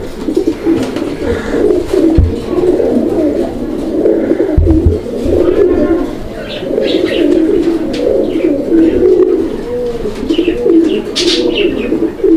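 Pigeons coo steadily in low, throaty rolling calls, several birds overlapping close by, with occasional faint chirps and a bump or two of handling noise.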